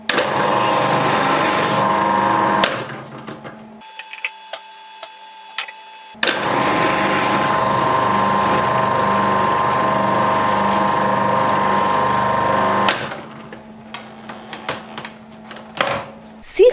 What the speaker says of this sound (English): Let's grate an apple.